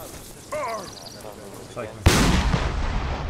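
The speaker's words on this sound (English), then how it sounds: "there was a huge explosion" A huge explosion in the WWII shooter ColdHarbour erupts as a sudden loud broadband blast, then a sustained rumbling roar, following faint background game noise and a brief tonal cry.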